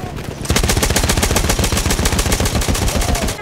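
Rapid automatic gunfire from the video game Battlefield 1 starts after a brief pause and continues as a dense, loud, steady burst of shots, with no one speaking.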